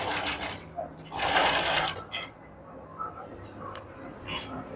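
A sewing machine stitches the front neck of a kurti in two short, close, loud bursts, followed by quieter handling noises.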